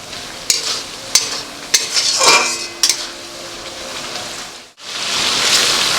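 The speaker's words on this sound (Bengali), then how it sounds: "অল্প অল্প করে জল দিয়ে এবার কষাতে হবে।" Spice paste being sautéed with small splashes of water for a Bengali chicken kofta curry, a steady stirring and frying hiss with a few sharp utensil clicks, a brief pause near the end before the sizzle resumes.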